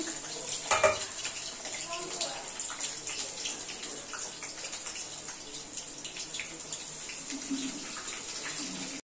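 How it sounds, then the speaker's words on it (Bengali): Potatoes for a meat curry fry in a pan, giving a steady, moderately loud sizzling hiss through the whole stretch, with faint kitchen clatter and no talk over it. "ভেজে নিচ্ছি, মাংসের আলুটা"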